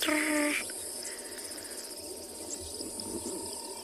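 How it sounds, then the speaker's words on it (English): Rubber frogs calling at night in the Kalahari, a rounded repeated note set in a dense bed of insect and cricket trilling, with a louder tonal burst at the start before settling into a steady background chorus. "You can hear that rounded rubber frog in the background really nicely, that one that's going."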